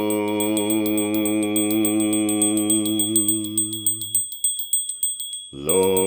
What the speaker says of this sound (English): So I use the bell for this too